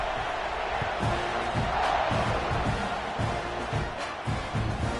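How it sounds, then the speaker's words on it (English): Stadium crowd noise in the College Football 26 video game during an Auburn vs. Texas A&M game, a continuous loud roar with rhythmic low thumps and swells of cheering. "this crowd is feeling themselves after that last drive"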